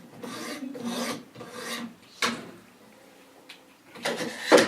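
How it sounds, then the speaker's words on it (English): Sharpening strokes of a knife drawn across 200 grit stones on a Wicked Edge sharpener: a few close, gritty rasping passes, some long and some quick, separated by short pauses. "And we'll do 2 quick strokes with our 200 grit stones."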